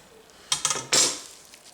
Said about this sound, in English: I'm just going to slice this in half because we're supposed to slice against the grain